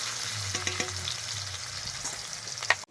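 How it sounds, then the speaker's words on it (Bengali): Chopped onion frying in mustard oil in a wok after a cumin tempering: a steady close sizzle with a few light stirring clinks and scrapes, and nobody speaking. "পেঁয়াজটা ভাজা হচ্ছে,"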